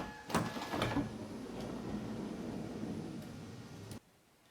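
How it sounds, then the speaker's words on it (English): A Honda Odyssey power window lowers with a steady motor whir lasting a few seconds before stopping abruptly, preceded by a couple of faint clicks. "I'm lowering the window so that the door doesn't go all the way to the back."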